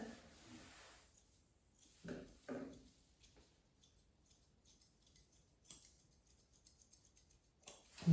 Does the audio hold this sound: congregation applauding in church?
no